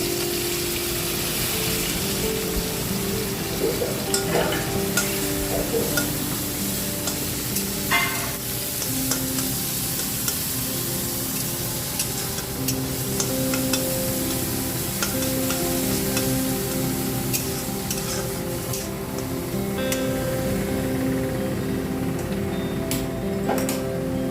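Onion, a chili and black cumin frying in oil in a kadai make a soft sizzle, with repeated scraping and clinking of a spoon against the pot throughout. No voices are heard.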